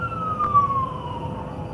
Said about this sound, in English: there's always an ambulance screaming around here somewhere.